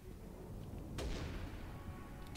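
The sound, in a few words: video game gunshot hitting a red barrel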